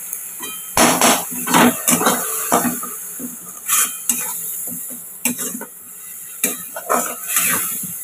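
A spoon stirs and scrapes in a pan while reddened onion fries with a ground paste of onion, ginger, garlic and chili, giving close, irregular metallic clanks and knocks with a light sizzle beneath.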